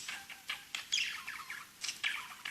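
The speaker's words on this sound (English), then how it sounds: "getting bit by the birds today" Parrots at Parrot Jungle Island give sharp, bright chirps and squawks in short bursts repeating every half second or so, fairly close but quiet, with no voices.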